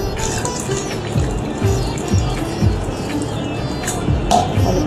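Water is poured and splashes continuously with liquid trickling, close and fairly loud, while preparing an Afresh drink mixed with hot and normal water; a few light knocks sound.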